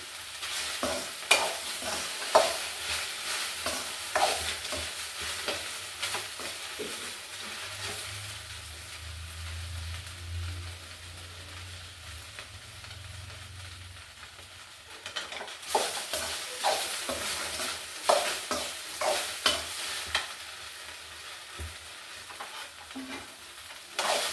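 Okra frying in a pan over a medium flame, a soft steady sizzle broken by repeated scraping stirs and light clinks of a spatula against the pan, fairly quiet and close, with no talking.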